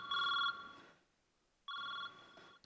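A mobile phone rings indoors in two short bursts of a bright electronic ring tone separated by a pause, fairly close with no talking over it.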